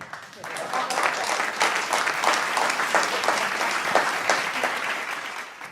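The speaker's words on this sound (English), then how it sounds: "Clap for the judges." Audience at a stand-up comedy show clapping for the judges, a dense, even burst of applause filling the room for several seconds.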